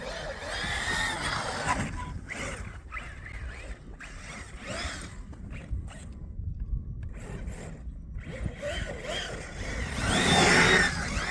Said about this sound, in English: this is the Traxxas Sledge with a M2C Racing